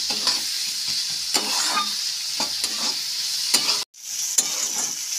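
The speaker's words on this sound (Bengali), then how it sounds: "গোল্ডেন কালার আসা অবধি পেঁয়াজটা একটু ভেজে নেব।" A large sliced onion fries in hot mustard oil in a wok, a loud, close, continuous sizzle broken by repeated scraping stirs, with a brief gap near the end before the hiss resumes.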